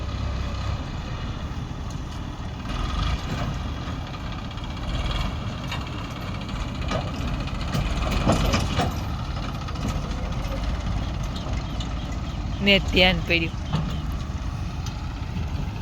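A tractor engine rumbles low and steadily throughout, idling with a heavy throb, while people talk over it.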